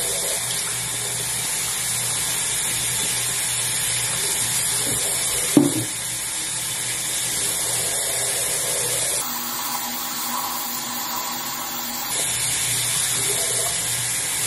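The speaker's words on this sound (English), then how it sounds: "I like to wash my face with either cold or lukewarm water," Bathroom tap runs steadily while a face is washed, a constant close hiss of water with a sharp splash partway through and a brief change in flow later, no talking.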